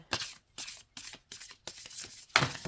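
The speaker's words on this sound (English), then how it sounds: "Sometimes I shuffle them this way." Tarot cards are shuffled close up in quick bursts, five or six papery riffling rubs separated by brief pauses, soft and alone.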